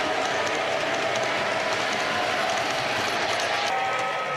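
A 1994 Lionel SD60M O gauge model locomotive rumbles steadily along its track with a continuous, fairly loud mechanical roar and faint whine, unbroken for the whole stretch, with no talking.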